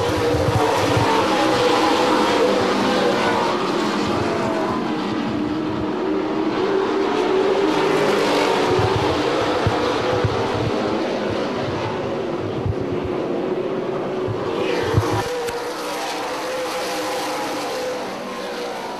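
Super late model race cars roar around an oval track, a continuous loud engine drone that swells and fades as the pack passes, with a distant crowd-like wash underneath.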